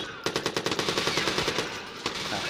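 Rapid automatic gunfire in Watch Dogs, a fast regular string of sharp shots close by, pausing briefly before a final single crack.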